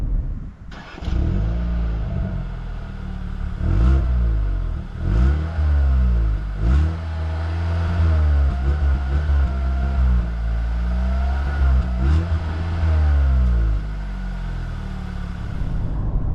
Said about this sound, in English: you got a bit of a burble and a bit of a pop in between the upshifts there